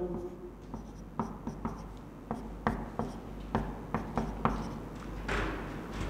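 Chalk or marker strokes on a board while a chemistry reaction formula is written, a run of short taps and scratches in an irregular rhythm, close and clear, with a longer rubbing stroke near the end.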